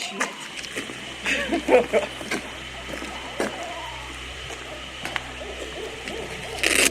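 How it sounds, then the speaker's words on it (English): An owl hoots a few times from a distance, soft and low, amid outdoor ambience and occasional water splashes. "That's an owl."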